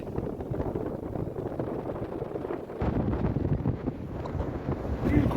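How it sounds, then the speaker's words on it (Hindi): Strong wind buffets the microphone outdoors at a lookout over Mexico, a steady low roar that swells louder and rougher in the second half with gusty rumbling throughout. "हवा बहुत तेज़ चल रही है"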